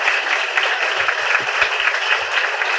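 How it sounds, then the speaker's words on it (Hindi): Loud, dense applause from an audience of school students and guests at a children's play performance, steady and continuous with a few low thumps underneath. "एक बार इनके लिए मैं जोरदार तालियां आप लोगों से चाहता हूं"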